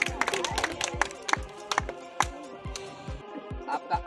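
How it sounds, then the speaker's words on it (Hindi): Sparse, uneven hand claps from a small audience follow a correct answer by a girls' team at a quiz contest, individual sharp claps scattered over four seconds with faint background voices. "जोरदार तालियां हो जाए पूरी गर्ल्स ग्रुप के लिए।"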